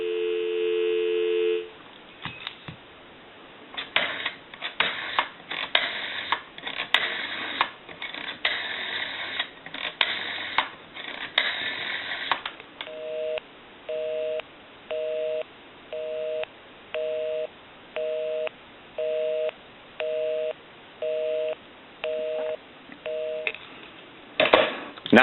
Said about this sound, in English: I'll give you some dial tone.